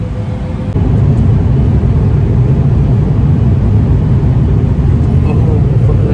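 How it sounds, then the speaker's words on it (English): Airplane accelerating down the runway on a first-ever flight, heard from inside the cabin as a loud, steady broadband engine roar that swells slightly after a moment and holds. "I think we're getting ready for takeoff, bro."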